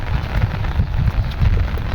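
Rain falling in a steady, close patter with a heavy low rumble underneath, lasting only a moment.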